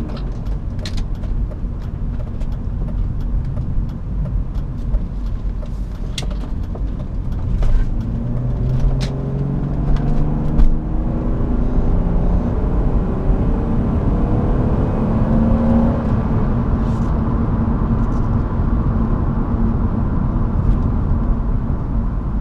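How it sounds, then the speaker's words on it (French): The 1998 BMW 323i E36 Touring, with an M52 engine and automatic gearbox, hums steadily from inside the cabin as it drives and accelerates, its engine note climbing smoothly through gear changes under constant road noise. "La mélodie du moteur BM à l'ancienne."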